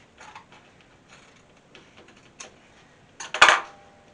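Scissors snipping through the final seam of denim jeans, a series of crisp close cuts with faint clicks that build to a louder, sharper crunch at the end, without talk.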